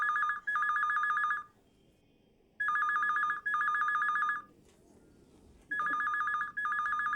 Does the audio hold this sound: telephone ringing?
yes